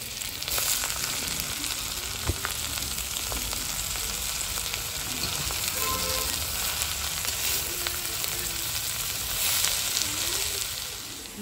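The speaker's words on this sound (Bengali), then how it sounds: "তেল দিয়ে দিলাম, রসুন আর পেঁয়াজ দিয়ে দিলাম, তার সঙ্গে কাঁচা লঙ্কা" Garlic, onion and green chili sizzle steadily in hot oil in a home kitchen, a dense continuous crackle with occasional faint stirring scrapes and no talking.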